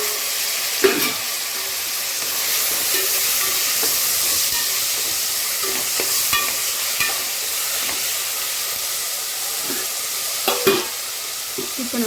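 Chopped tomatoes with turmeric and coriander powder cook in a pan with a close, steady sizzle, broken by intermittent scrapes and taps of a spoon stirring.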